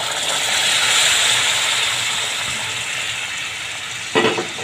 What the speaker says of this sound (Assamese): এতিয়া মই গৰম পানী অলপ দি দিছোঁ।